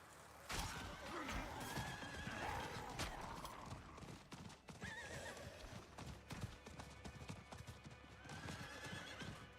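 Rapid hoofbeats clatter steadily throughout, with a horse neighing and whinnying several times over the galloping rhythm, in a video game.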